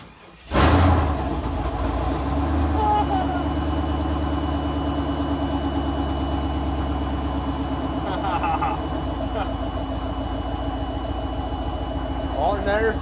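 Chevrolet Blazer engine cranks and catches after repair, then settles into a steady close idle with a few slight revs, while people talk over it.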